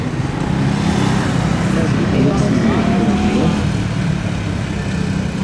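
A Bajaj Dominar 400 motorcycle pulls off at the start of a gymkhana run: a steady, loud engine roar that holds even throughout, with no voices audible over it.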